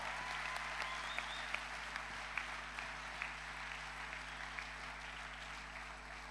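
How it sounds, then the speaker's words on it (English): Quiet, distant applause from a graduation ceremony audience for the 2016 graduates of a Bible institute, a soft steady patter of clapping over a constant low hum, with a few sharper claps standing out. "Ladies and gentlemen, a final hand clap for our graduates of 2016."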